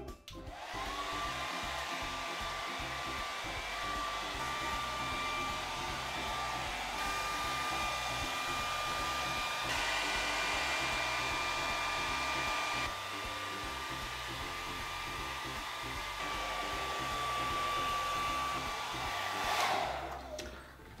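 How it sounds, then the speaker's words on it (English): A hair dryer set to warm and low blows steadily at close range while drying a cat after a bath, a continuous whirring hum that holds unbroken for about twenty seconds. "I'm going to use a hair dryer to dry him a little bit more"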